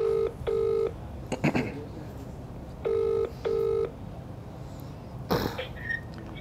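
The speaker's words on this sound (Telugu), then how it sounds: "మా మమ్మీకి కాల్ కలుపుతున్నా" Telephone keypad tones beep while a call is dialed, in two pairs of short, clear bursts separated by a pause, over faint background noise and a brief throat-clearing sound.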